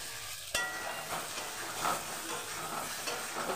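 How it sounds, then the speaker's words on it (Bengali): Boiled potatoes tossed and fried with spice masala in a pan, a sharp thud as they land followed by a steady sizzle and soft stirring scrapes, close and moderately quiet, no voices. "এটাকে ভালো করে আলুর সঙ্গে নাড়িয়ে একটু কষিয়ে নিই"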